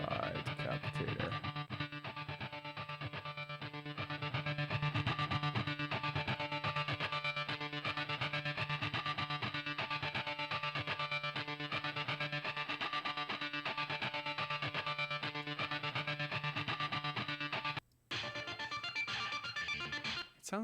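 Live drums run through a Decapitator distortion plugin, a dense, heavily saturated and crunchy drum loop playing continuously and loud, with a brief dropout near the end.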